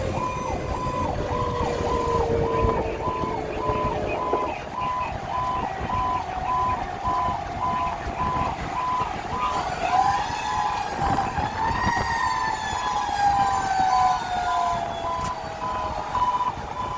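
A fire engine's Federal Q siren, Engine 502, winds up and screams continuously at close range, layered with an electronic warbling siren that stops partway through as the mechanical Q's rising, wailing tone takes over, heard from on board during a response.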